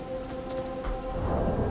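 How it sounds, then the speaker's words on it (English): Steady rain falls in the video game Elden Ring: Shadow of the Erdtree, a dense hiss of drops with low rumbling beneath and a few faint ambient tones, with no voices. "Oh, it's raining."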